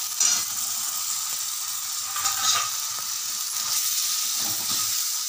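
Coriander, chili and turmeric powders fry in oil together with tomato, making a steady, close sizzle with soft stirring scrapes throughout and no voices.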